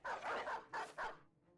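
A dog in the Battle Brothers video game barks about four times in quick succession, loud and close, then the sound trails off into a faint whimper.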